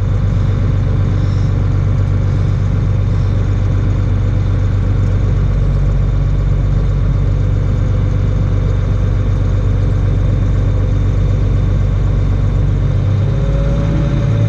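A tractor engine runs at a steady, loud idle-like rumble while it pulls a field cultivator whose wing is unfolding, the low drone constant throughout with a slight shift in tone near the end.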